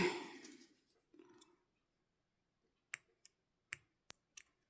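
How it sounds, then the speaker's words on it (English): A few sharp, close snips of dull scissors cutting yarn click in quick succession after soft rustling, each cut crisp and brief. "time to cut that yarn"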